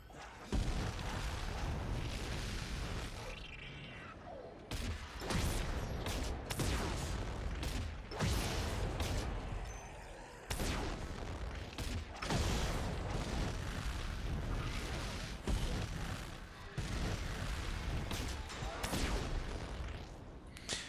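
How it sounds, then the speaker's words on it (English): A flamethrower with incendiary grenades fires in Dead Space 3, in repeated loud roaring bursts and booming blasts separated by short gaps throughout. "As you can see, it's a flamethrower with incendiary grenades, and it does exactly what you would expect."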